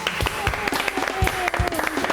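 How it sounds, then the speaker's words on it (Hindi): Studio audience applause welcoming guests onto a Pakistani Eid special TV show, a steady clatter of clapping running throughout with a voice speaking over it. "जोरदार तालियों में हम वेलकम करेंगे जवेरिया सऊद और सबा फैसल को"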